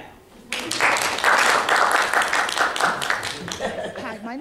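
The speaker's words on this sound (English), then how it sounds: "So you can clap now." An audience breaks into clapping after a brief quiet start, a dense, sustained burst of many hands that stays fairly loud, with scattered voices and chuckles mixed in.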